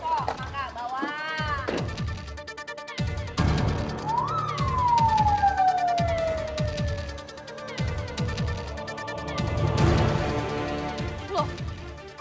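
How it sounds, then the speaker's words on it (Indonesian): An ambulance siren wails through a rising and falling sweep, loud and close, while people talk over and around it. "Loh, kok ada ambulans sih"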